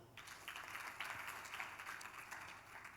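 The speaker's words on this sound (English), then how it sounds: "Can we clap for him?" An audience claps for a participant at a capacity-building session led by a pastor. The applause is faint and distant, steady and continuous for a few seconds, with no talk over it.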